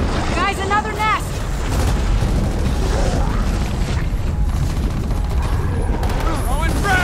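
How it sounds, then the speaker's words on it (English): A frag grenade blast wipes out an enemy nest in Gears of War 4, a dense booming roar of explosion and debris that fills the clip, with voices calling out briefly at the start and end over the din. "Throwing frag! Nest destroyed!"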